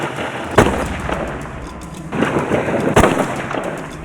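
Heavy rifle shots during a hippo hunt in Tanzania ring out outdoors, with two sharp reports a couple of seconds apart and rumbling, noisy open-air background between them.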